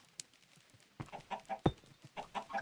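A Minecraft chicken clucks in a quick run of soft, close clucks after a brief quiet start, with the game's faint ambience underneath.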